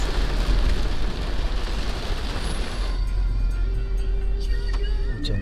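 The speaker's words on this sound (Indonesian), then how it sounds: "Hujan-hujan teman-teman." Steady rain falling during a visit to a used car dealer, a continuous dense hiss that fades somewhat partway through, with faint tones and clicks over it.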